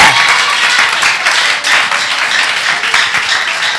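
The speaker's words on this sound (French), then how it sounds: "Applaudis le Seigneur." Loud, dense applause from a church congregation during a worship service, a continuous roar of many clapping hands filling the room from start to finish.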